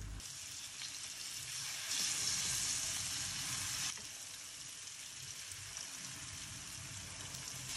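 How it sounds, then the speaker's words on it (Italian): Chicken pieces sizzle steadily in a large pan, a dense hiss that swells louder for a couple of seconds midway before settling back to an even fry. "una volta messi tutti li facciamo cuocere per 2 minuti per lato"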